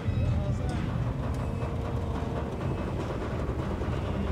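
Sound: train crossing a bridge in video game INDIKA

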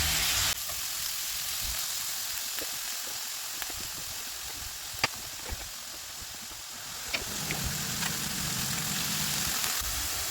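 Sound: onion and garlic frying in a pan

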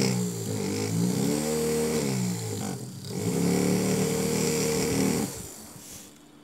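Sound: electric motor running on a homemade 12V battery

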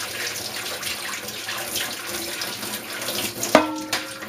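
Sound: water running out of a MiniKeg tap

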